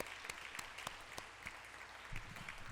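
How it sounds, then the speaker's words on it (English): Symposium audience gives a speaker another round of applause, a quiet, distant patter of scattered claps with a few sharper ones standing out. "Let's give him another round of applause"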